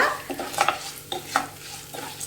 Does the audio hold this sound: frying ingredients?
yes